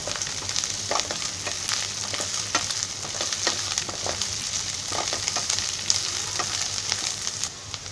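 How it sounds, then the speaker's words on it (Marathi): Ginger garlic paste and masala fry in a pan for an oyster dish, a dense close sizzle with regular scraping taps of a stirring spoon throughout, no talk. "हे सगळा मसाला भाजून घ्यायचा."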